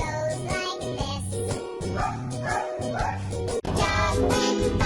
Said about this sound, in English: Dog when barking goes like this.